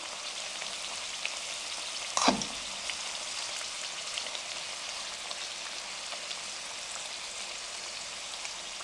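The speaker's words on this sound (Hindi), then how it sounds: "मीडियम फ्लेम पे इनको फ्राई करेंगे।" Puff patties frying over a medium flame in hot cooking oil give a steady, fairly faint hiss and crackle throughout, with one brief louder pop near the start.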